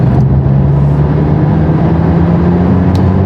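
McLaren 570S accelerating with the turbos coming in, a loud, steady engine drone with a gradually rising tone, heard from inside the cabin.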